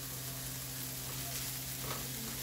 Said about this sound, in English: let my onions get a little bit translucent